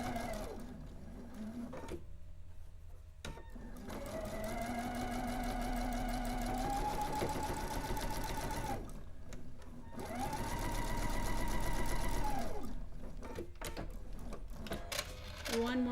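A sewing machine stitches slowly through a thick quilt seam near a 4-patch block, a close, rapid mechanical whirring in several runs with short pauses, its pitch rising and steadying as the needle pushes through the bulky part.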